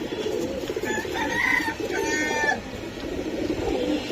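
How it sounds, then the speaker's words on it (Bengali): Army and Sundari pigeons, a female Army and a male Sundari, coo steadily in a loud, close, continuous murmur of low throaty calls, with no talking. "মাদিটা একেবারে অরিজিনাল আর্মি কবুতর, আর নটটা হচ্ছে সুন্দরী কবুতর"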